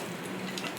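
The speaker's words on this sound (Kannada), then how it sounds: "ಇದು ಸ್ವಲ್ಪ ಫ್ರೈ ಆಗಲಿ" Spices crackle in a hot pan for a brief moment, a soft, steady close sizzle with faint popping and no voice over it.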